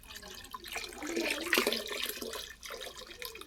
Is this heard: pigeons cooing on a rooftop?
no